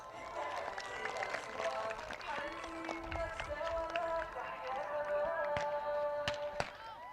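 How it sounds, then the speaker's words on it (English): A soccer tournament crowd claps and cheers at moderate distance, a scattered, sustained patter of hands with whistles and shouts, while people talk over it. "A big round of applause."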